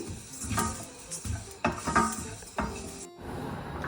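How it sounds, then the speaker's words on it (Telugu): Coriander seeds dry-roasting and being stirred in a pan, giving scraping, rattling clinks of seeds and utensil against metal in uneven bursts, close and moderately loud, with no voices. "లైట్గా కొంచెం మంచి సువాసన వచ్చే వరకు వేయించుకోవాలి వీటిని"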